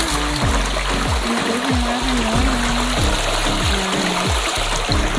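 Water flows in a rural stream in the provincial countryside, making a loud, constant rushing gurgle close by, with a repeating low sputtering pulse underneath, as if the water is being drawn or pumped.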